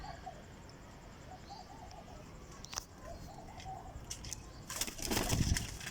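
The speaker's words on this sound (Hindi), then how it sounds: "ये माशाल्लाह लाखा कबूतर है।" A Lakha pigeon softly cooing in repeated low phrases, joined toward the end by a louder burst of wing flapping and rustling close by.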